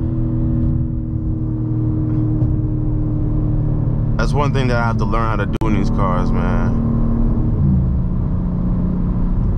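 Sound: BMW M4 Competition engine revving, holding gears

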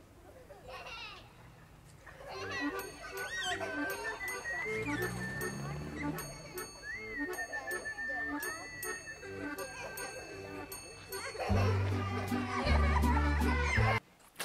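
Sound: children playing outdoors with bicycle bells in a Swedish song recording

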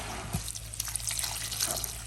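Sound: water being poured

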